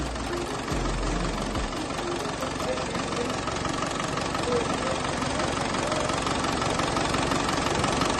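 A Land Rover 200tdi diesel engine runs just after being replaced, with a steady, close, clattering idle throughout and a faint voice briefly over it.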